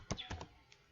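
A few light taps on a computer keyboard while a city name is typed into an Access query criteria field. The keystrokes are quiet and close, in two quick clusters and then a lone final tap.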